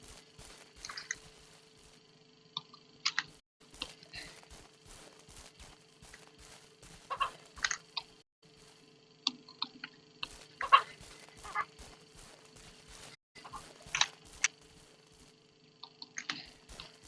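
Chickens and roosters cluck in a Ranch Simulator farm, with scattered soft clucks and clicks over a quiet steady game background hum, faint and intermittent with no talk.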